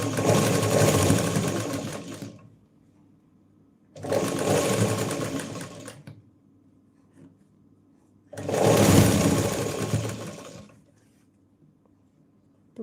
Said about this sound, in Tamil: இப்போ நான் ஸ்டிச் போட்டு காட்டுறேன் பாருங்கள்.